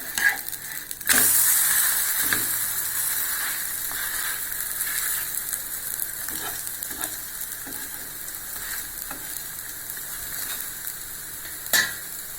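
A cassava adai fries in a pan, sounding as a steady close sizzle that swells when it is flipped, with a few clicks and taps of a spatula along the way.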